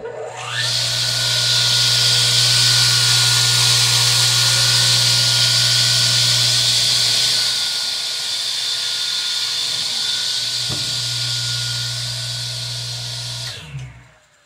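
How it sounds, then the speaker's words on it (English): Vintage DeWalt 770 radial arm saw, said to need lubrication, running alone with a loud steady motor whine and hum that spins up, holds for over ten seconds, eases slightly, then shuts off abruptly. "here's a video showing that the Dewalt Radial Arm Saw is working good."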